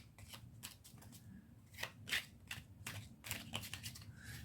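Oracle cards being shuffled by hand, a run of soft papery riffles and swishes repeating in quick bursts, close and moderately quiet, with no talk over them.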